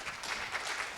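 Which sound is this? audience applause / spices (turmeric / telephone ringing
audience applause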